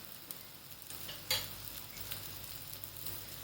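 An egg and wheat-flour paratha fries in oil in a pan, giving a faint steady sizzle with one brief brighter crackle as oil is added, close and without talk.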